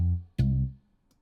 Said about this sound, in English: And with the percussion and the bass guitar, it sounds like this.